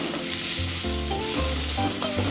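Tomato and dry red chillies frying in a pan for egg sambar give a constant bright sizzle, heard close and loud under a steady layer of tonal background music, with no voices.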